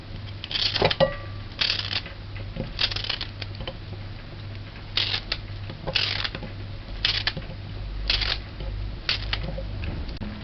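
A knife cuts through green banana in a series of crisp slicing strokes about a second apart, close up over a low steady hum, while preparing goat head mannish water soup.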